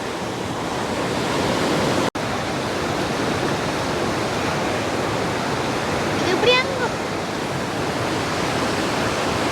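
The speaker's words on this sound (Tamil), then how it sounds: "ஆனால் சரியான ஸ்பீட் குறைவாக தான் பாயுது இது" Water pours steadily out of an Iranamadu reservoir, a broad continuous rushing roar like a spillway flow that holds an even level throughout, with a brief break near the start and no clear talk over it.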